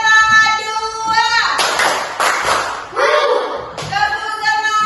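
Children in a classroom clap together in short rhythmic bursts of a spirit cheer, the loud claps alternating with a teacher's sung or chanted voice before and after.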